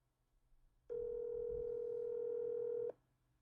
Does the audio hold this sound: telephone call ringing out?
yes